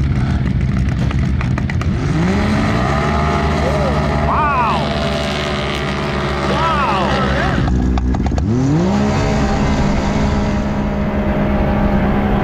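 A turbocharged Yamaha YXZ side-by-side revs with rising and falling engine pitch, heard among other off-road vehicles at an outdoor camp, steady and fairly close.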